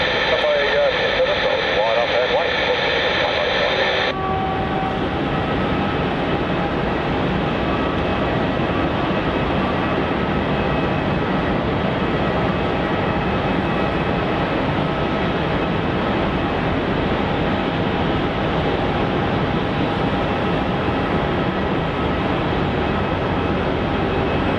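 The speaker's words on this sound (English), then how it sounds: "The A321 Neo is now rolling." An Airbus A321neo jet on its takeoff roll at Melbourne Airport, a steady broad engine roar that holds loud and continuous after a brief radio-like tone at the start.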